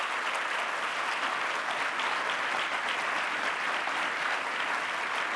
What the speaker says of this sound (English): Family, friends, how about another round of applause for Aung San Suu Kyi.